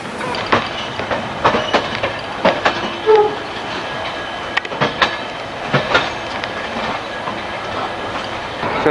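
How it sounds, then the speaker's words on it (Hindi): Passenger rake of the Prayagraj Junction–Anand Vihar Humsafar Express being shunted, with irregular clickety-clack wheel knocks and clunks over a low rolling rumble, fairly close and loud. "शंटिंग ले जा रहे हैं प्रयागराज जंक्शन आनंद विहार हमसफ़र एक्सप्रेस के रेक।"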